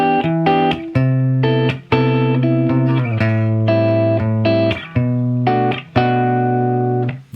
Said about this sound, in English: which is your classic humbucker kind of thing. It sounds like this on the clean.